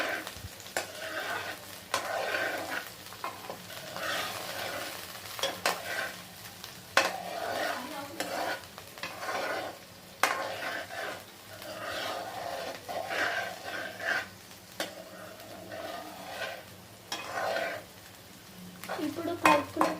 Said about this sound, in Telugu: నెక్స్ట్ కరివేపాకు వేసుకుందాం. ఇప్పుడు కలుపుకోవాలి.